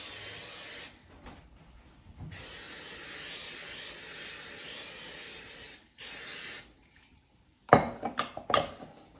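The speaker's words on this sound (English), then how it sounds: "We're just going to give them some spray so that they don't stick." Cooking spray hissing onto cupcake pans in two long continuous bursts with a short gap, close and loud, followed by a few clanks and knocks of the pans being handled.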